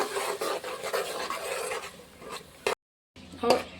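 A spoon stirring tomato rice masala with halved tomatoes in a pan, giving steady close scraping and rubbing strokes with a brief pause near the end before one more scrape.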